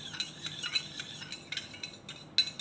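A spoon stirs and crushes sugar into nimbu pani lemon drink, with soft scraping swirls and light clinks against the glass, faint and close, irregular over a couple of seconds, no voices.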